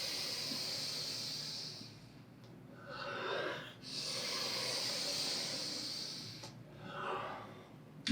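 Rapid Breath of Fire breathing exercise, close forceful breaths through the nose in long sustained hissing stretches, each broken by a brief gap and a quick inhale.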